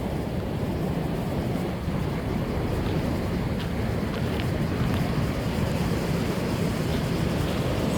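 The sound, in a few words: ocean waves at Costa Rica surf beach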